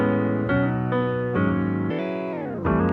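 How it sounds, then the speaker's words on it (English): Piano samples triggered on the pads of a Roland SP-404 sampler ring out one after another, sustained tones that warble and bend downward in pitch between hits, close and alone with no talk. "I put a bunch of different piano samples on these pads"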